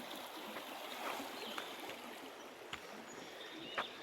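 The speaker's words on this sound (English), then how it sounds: "Just came walking along this stream." A stream flows beside the Appalachian Trail, giving a soft, steady wash of moving water at a distance, faint and continuous, with a few tiny splashes and no talking.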